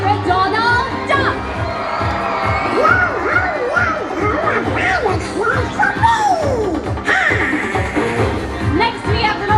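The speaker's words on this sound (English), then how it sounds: "Please give a loud Buccaneer cheer to Pirate Donald Duck!" A crowd aboard the Disney Fantasy cruise ship cheering for Pirate Donald Duck on pirate night: loud, sustained shouting and whoops, with children's high voices rising and falling over the roar.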